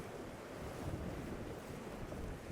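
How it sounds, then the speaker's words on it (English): Wind buffeting a microphone on the rocky coast at Porthgain, West Wales, during a sea fishing session, mixed with the wash of waves below; a constant loud roar throughout with no talking. "Hopefully that wind dies off, maybe changes direction."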